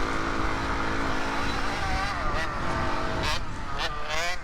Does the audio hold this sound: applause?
no